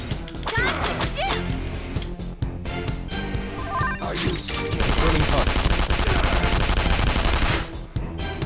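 Dense, continuous gunfire in the Persona 5 battle aboard a sinking ship, loud and close, mixed with game music and battle effects throughout.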